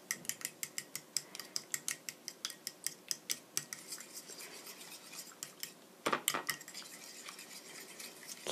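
A fork stirs a salted mixture for pork cutlet (tonkatsu) in a bowl, producing quick, rhythmic metallic clinks and scrapes close up that repeat steadily, then grow denser and more continuous toward the end.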